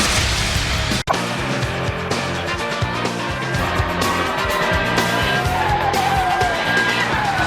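Formula One cars race at the 2002 Austrian Grand Prix at the A1-Ring, a loud continuous engine roar with layered passing whines and one sharp break early on.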